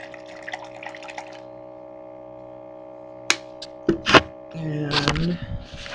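Water runs into a plastic protein shaker bottle that already holds a scoop of whey powder, a short close pour after a couple of hollow thunks, against a quiet room hum.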